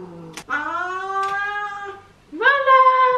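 A house cat, twelve or thirteen years old, lets out two long, loud, close meows, the second rising sharply after a short gap, with no talk over them.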